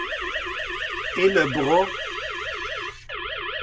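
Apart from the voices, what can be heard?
Aqara smart water leak alarm sounding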